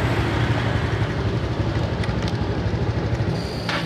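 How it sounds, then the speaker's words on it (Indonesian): A Yamaha Mio Soul scooter with an electrical fault runs at idle, a loud, steady engine drone close by with a faint high whine appearing near the end, no talk. "namun ketika motor dihidupkan bisa ya hidup"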